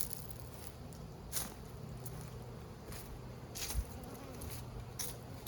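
Bees buzz testily around close by on an active fall day, their faint whine rising and fading in short bursts as individual insects fly past over a quiet outdoor background.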